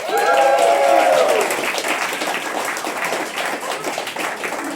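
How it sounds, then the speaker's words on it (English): A live audience bursts into a big round of applause for two stage technicians at a show, loud dense clapping that peaks early and then settles into a steady, slightly thinner patter. "So a big round of applause for Will Burns and Michael Bell."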